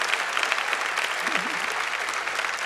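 Audience applause at an award presentation evening, a steady wash of many hands clapping at moderate volume, with a brief voice or murmur surfacing midway.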